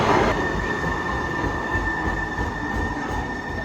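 A Seattle light rail train rumbles steadily at a station, a loud, close, continuous low roar of rolling wagons with a sustained high wheel squeal running throughout, no voices.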